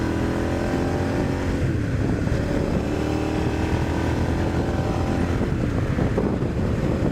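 A twin-cylinder motorcycle engine runs loud and steady throughout, with a constant droning rumble and some wind buffeting.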